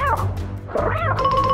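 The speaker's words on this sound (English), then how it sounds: "Is that meowing coming from inside the snake's belly?" A cartoon cat meows from inside a snake's belly, producing a couple of drawn-out, wavering cries that are loud and close, with no talking.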